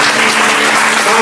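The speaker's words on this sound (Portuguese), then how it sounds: "Um forte aplauso ao Senhor." A church congregation claps together in sustained, dense applause that stays loud and even for the whole stretch, with no voices standing out.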